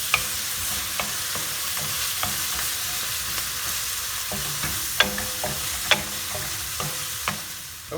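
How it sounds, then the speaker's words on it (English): Szechuan stir-fried chili beef being stirred in a hot pan, a continuous sizzle punctuated by repeated sharp spatula knocks and scrapes against the metal, close up and without speech. "Just stir it, and you can add your cilantro now."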